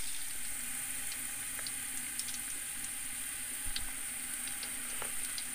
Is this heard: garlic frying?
yes